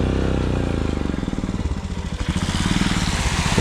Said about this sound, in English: It turns into a real test for our heavily loaded motorcycles.